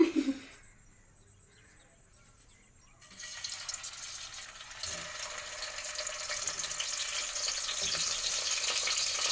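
Spice-stuffed whole eggplants hit hot oil: after a few quiet seconds with a faint tone, a hissing sizzle starts up and swells steadily louder and denser, close by.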